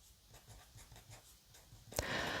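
Pen or marker writing by hand on a board during an elementary math lesson on common divisors, with soft repeated strokes, then a brief louder scrape near the end.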